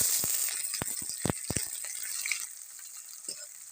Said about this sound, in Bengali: সব ভালোভাবে ভাজা করে নেব।